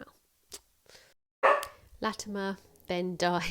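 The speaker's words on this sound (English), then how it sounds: "excuse the dog" A dog barks a few times in the background, the barks brief and mixed in with someone speaking about history, with short pauses between phrases.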